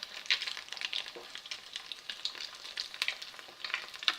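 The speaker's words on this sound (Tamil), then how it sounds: "மீடியமில் வச்சுட்டு நம்ம பொரிச்சு எடுத்துடலாம்." Banana sweet cutlets fry in oil over a medium flame, giving a steady close crackle of small pops and bubbling that carries on alone for a few seconds.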